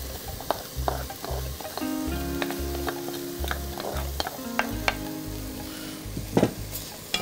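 Rice and fried mung dal are stirred in a pot with a spoon, making repeated scraping strokes and soft clatter over a continuous sizzle, close and fairly loud, with no talking.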